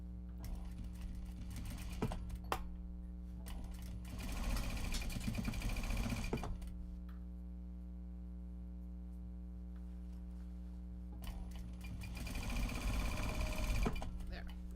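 A sewing machine stitches a Japanese fabric project bag in two steady bursts, around the 4–6 s and 12–14 s marks. Between them a constant hum continues under quieter handling sounds.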